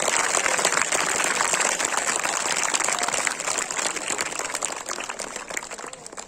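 An audience claps at a school foundation day event, producing a continuous, dense wash of applause that stays loud for several seconds and eases off slightly toward the end.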